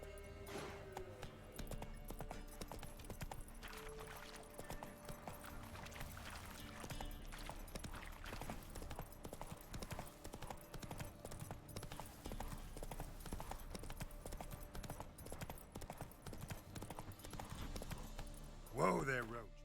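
Roach, Geralt's horse in The Witcher 3, gallops continuously with rapid, driving hoofbeats over game music, loud and sustained for the whole stretch, with voices speaking over it and a sharper burst near the end.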